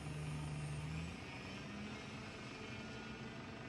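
An E-Flite 1.5 m P-51D Mustang RC plane in the RealFlight 9.5 simulator gives off a steady propeller engine drone that shifts pitch slightly, fairly faint, with no talk.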